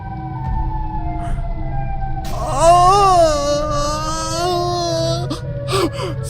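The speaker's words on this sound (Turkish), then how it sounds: "Yemin ederim Siren Heat'in sesi geliyor." An eerie, wavering Siren Head wail from a video game rises and bends over a low steady hum, loud and sustained for a few seconds before fading into brief noises.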